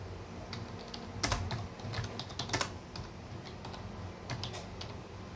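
Keys clack on a computer keyboard in irregular bursts of quick taps with short pauses, close and fairly quiet, no voices present while someone types chat messages on a PC.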